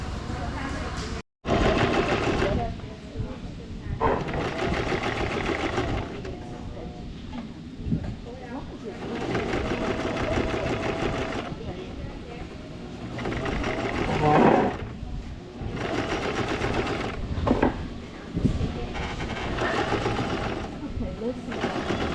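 A sewing machine runs in stretches of rapid stitching and then back stitches, a busy mechanical hum and needle clatter that starts and stops repeatedly while people talk nearby.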